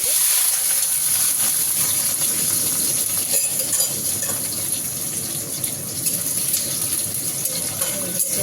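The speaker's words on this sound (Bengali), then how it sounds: "তো আমি এইগুলোকে একটু নাড়াচাড়া করে নেবো।" Onion, tomato, garlic, cashews and yogurt sizzling as they are stirred in a hot pan, a steady loud hissing crackle with faint scraping throughout.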